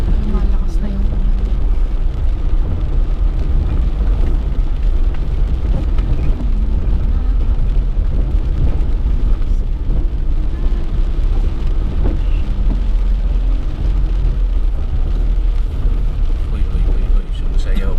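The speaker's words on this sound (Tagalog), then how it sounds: "malakas na yung ulan" Dense, continuous rushing noise of heavy rain pouring, broadband and unbroken, with faint voices occasionally underneath, outdoors in Aguilar, Pangasinan, Philippines.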